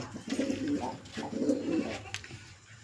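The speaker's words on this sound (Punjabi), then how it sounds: "ਅੱਜ ਤੁਹਾਨੂੰ ਲੱਕੇ ਕਬੂਤਰ ਵੀ ਆਪਾਂ ਵਿਖਾ ਰਹੇ ਆ" Fantail pigeons coo nearby in two soft, rolling bursts, low and throaty, followed by quieter background.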